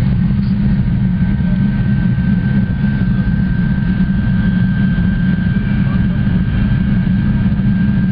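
Steady low rumble of a Shinkansen bullet train picking up speed in Japan, a constant droning hum with a faint high whine, continuous and fairly loud throughout.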